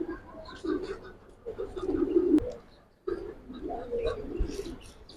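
Giribaj pigeons, including silver, bagha and green-necked breeds, cooing in repeated low murmuring phrases close by, with chirps and other birds around and voices in the background.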